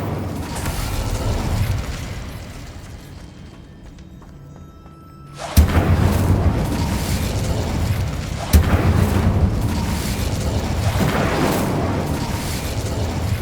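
Incendio fire spell cast in Hogwarts Legacy, with two sharp bursts after a quieter stretch, each followed by a dense roaring rush of flame that sustains loudly through the rest of the clip.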